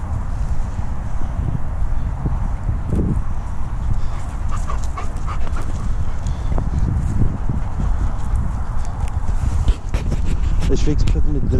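Several dogs, kept close together, whimpering and barking amid rustling and movement noise, loud and near, with people talking throughout.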